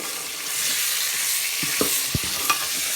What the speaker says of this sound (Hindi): चिकन को डाल लेते हैं, चिकन को फ्राई करेंगे अच्छे तरीके से, मिक्स कर लेते हैं